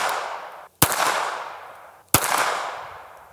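Two sharp SKS rifle shots fired outdoors, spaced about a second and a half apart, each a loud crack trailing into a long echoing decay.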